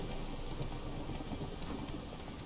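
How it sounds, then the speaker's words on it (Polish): A thunderstorm in The Witcher 3 game world brings dense, steady rain hissing loudly and evenly, with a low rumble underneath and no one speaking. "Jeszcze burza idzie."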